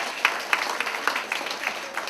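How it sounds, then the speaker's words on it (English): An indoor audience gives a short burst of applause, with scattered claps close by and quick, lasting about two seconds. "Round of applause."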